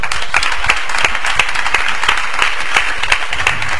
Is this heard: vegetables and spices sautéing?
no